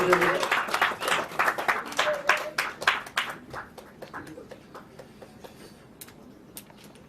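An audience claps loudly for actor Dhananjay at a celebration event: a dense burst of applause that gradually thins into scattered, fading claps.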